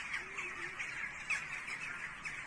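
Crows caw before an earthquake in Turkey, repeated harsh calls over a steady outdoor background, moderately distant and fairly faint, with no speech.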